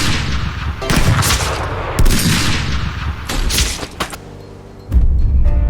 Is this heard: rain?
no